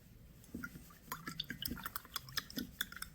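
Seed-soaking water with a booster being mixed in, giving faint, close drips, splashes and clinks of liquid in a container, irregular and quiet.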